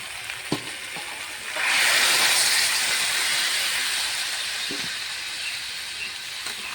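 Hot water poured into a pan of potato and cauliflower curry set off a loud, sudden steamy hiss that swells after a couple of seconds and then slowly fades, with a few faint clinks of utensils.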